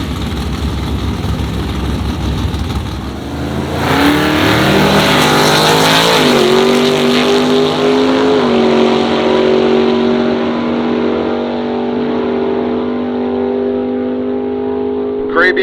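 Gasser drag race cars at Hot Rod Dragweek roar loud and close, engines revving hard then sweeping through rising gear changes as they launch down the strip, with talk heard over the noise.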